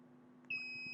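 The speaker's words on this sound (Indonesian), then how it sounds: "maka buzzer akan berbunyi" An Arduino buzzer wired to a joystick sounds when the joystick button is pressed, a steady high-pitched electronic tone that starts abruptly and holds, faint and close over a low hum.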